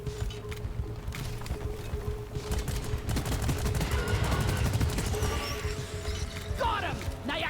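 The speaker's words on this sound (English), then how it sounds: "the little submachine guns" Rapid submachine gun fire in the video game Deep Rock Galactic, a steady rattling burst building in the middle and mixed with clattering mechanical game noise and a voice talking over it.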